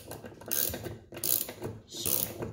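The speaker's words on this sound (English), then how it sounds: "I'm just going to snug these down for now" A ratchet wrench snugging down bolts on auxiliary light mounts, heard as three short bursts of rapid, close ratcheting clicks with brief pauses between them.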